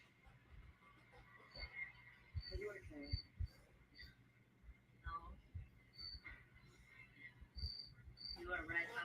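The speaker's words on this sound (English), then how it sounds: "cricket is chirping loud, isn't it?" A cricket right outside a window chirps loud and steady in short repeated bursts, with people talking over it.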